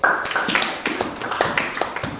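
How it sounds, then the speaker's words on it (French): Applause for a sister from a church congregation: a scattered, uneven patter of hand claps at moderate loudness, with distinct individual slaps standing out over a steady clapping bed. "est-ce qu'on peut applaudir pour notre soeur?"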